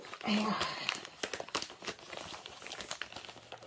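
Crinkly envelopes from a cross-stitch kit being handled during an unboxing: a loud burst of crumpling and rustling at first, then lighter crinkles and rustles, with a voice speaking over the handling.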